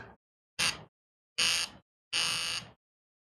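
A water flosser on its powerful mode buzzes in three separate bursts, each roughly half a second long with a harsh, high-pitched electric whine, separated by short silences.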